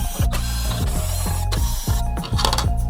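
A screwdriver backs screws out of the mainboard of a Hisense 65H6570G TV that won't turn on, giving close repeated ratcheting clicks and creaks in a quick irregular rhythm.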